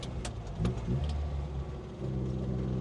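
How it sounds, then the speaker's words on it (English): Small kei truck engine running as it is driven, a steady mid-low hum with slight revving swells throughout, close and fairly loud with no talk. "cannot wait to drive this car, which is going to happen right now"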